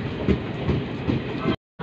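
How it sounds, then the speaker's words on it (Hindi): The Rewa to Dr. Ambedkar Nagar special train stands at platform 3 of a railway station, a steady close rumble with faint rhythmic pulses that cuts off abruptly near the end. "प्लेटफॉर्म नंबर 3 पर लग चुकी है Rewa doctor Ambedkar Nagar special train."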